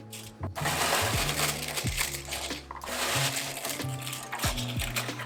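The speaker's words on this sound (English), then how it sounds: "break it apart into small pieces" A thin, crispy baked dessert layer is snapped and crushed into small pieces, giving a close, continuous run of crackling crunches with sharp individual snaps throughout.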